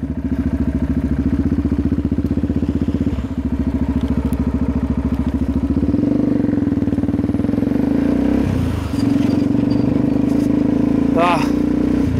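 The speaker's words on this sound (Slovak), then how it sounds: "Ako ja na motorke." A motorcycle ridden along a road on a Slovak motovlog near Jankov Vršok, its engine droning steadily and loud throughout with wind noise, while someone talks continuously over it.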